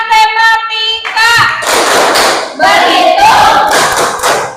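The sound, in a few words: class doing a rhythmic clapping chant, tepuk matematika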